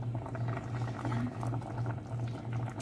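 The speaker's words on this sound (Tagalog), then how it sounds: "Ito po yung boiling na chicken ko kanina." Chicken simmering in water in a covered pot gives a steady bubbling boil with a regular pulsing hum, close and continuous throughout.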